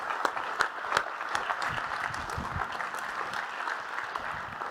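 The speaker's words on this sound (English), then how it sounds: "One more round of applause." A crowd at a chamber of commerce annual meeting applauds steadily, a moderately loud, even patter of many hands clapping with a few sharper nearby claps standing out, continuing throughout without talk.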